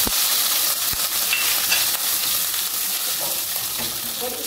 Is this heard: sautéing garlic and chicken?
yes